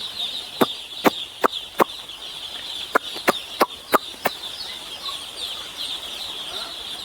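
Broiler chickens give short, sharp clucks in two bursts, several calls each, over a continuous high buzzing of insects or a fan.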